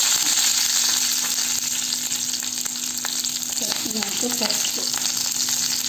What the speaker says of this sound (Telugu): 2 మినిట్స్ ఇలా వేయించుకున్నాం.